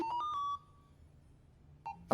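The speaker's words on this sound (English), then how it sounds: "my phone is ringing." A phone ringtone plays a few rising electronic tones near the start, then falls quiet before a brief tone returns at the end, faint and alone.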